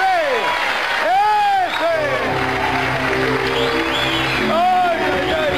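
An audience applauds and cheers loudly and steadily for a performer, the clapping mixed with crowd noise while a host talks excitedly over it.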